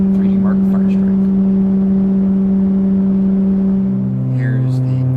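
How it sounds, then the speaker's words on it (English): A Noctua NF-P12 Redux 120mm case fan runs at 1300 RPM in a PC under load, a steady whirring hum with tonal whine, and the pitch drops slightly near the end; faint voice-like chirps come through briefly. "Here is the Noctua NF-P12 Redux at 1300 RPM in 3D mark Firestrike."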